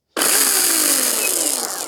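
A Ryobi 18V brushless 12-inch cordless chainsaw starts abruptly and runs at a loud, steady whine with a slight drop in pitch as it spins, heard alone and close.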